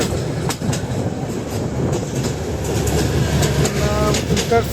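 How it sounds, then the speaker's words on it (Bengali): A train on a railway line near Mymensingh rumbles past close by, with rhythmic clickety-clack of wheels over rail joints and a faint squeal near the end, loud and continuous throughout. "আরেকটা ট্রেন চলে আসছে"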